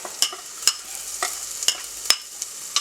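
Garlic, chilli and ginger frying in a pan for a chicken curry, with a steady sizzle and the scrape of a utensil stirring at a regular rhythm, close up and without talk.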